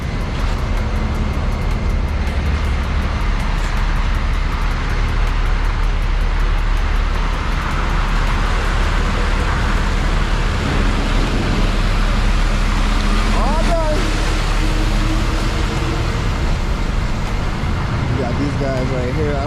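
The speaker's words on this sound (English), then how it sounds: "Here comes Jamie and the other dump truck." A dump truck driving across a warehouse construction site, its loud engine rumbling continuously up close amid other heavy machinery, with people talking over it.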